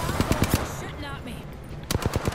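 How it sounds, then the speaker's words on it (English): Rapid automatic gunfire in a video game fires at the player, heard as two loud bursts of quick shots at the start and end with a quieter stretch between them where a faint voice is heard. "Shooting at me."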